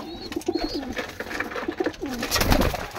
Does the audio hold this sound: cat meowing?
no